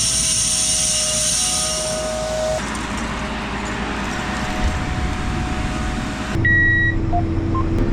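Short electronic beeps from a seed drill monitor warning of a plugged drill sound inside a loud, steady tractor cab engine hum, with a few brief tones near the end.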